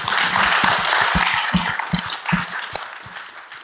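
A live audience breaks into clapping, a busy spread of individual claps that starts strong and gradually thins out, with scattered louder hand claps standing out near the front.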